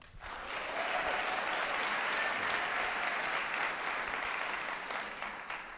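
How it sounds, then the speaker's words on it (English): Audience at a TEDx CCHS Youth 2025 event claps together, the applause swelling in quickly and then holding as a steady, fairly soft roar of many hands before easing slightly at the end. "So big round of applause for them."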